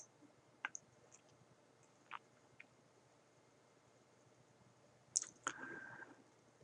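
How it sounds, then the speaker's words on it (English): Quiet, close computer mouse clicks, a few sparse single taps spread over several seconds against a faint hum, ending with a pair of clicks and a brief soft rustle. "I click OK"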